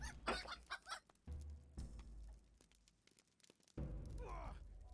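Chickens clucking in LOTRO during a free-range chicken run, bursts of close, busy clucks broken by short gaps, with a louder flurry of calls toward the end.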